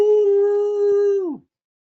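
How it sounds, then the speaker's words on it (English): Several bloodhounds and bluetick hounds bay on raccoon scent in one long, loud, sustained howl that holds steady, then slides down and cuts off, with no talk. "when those dogs find the scent of a raccoon, you'll hear 2, 3,"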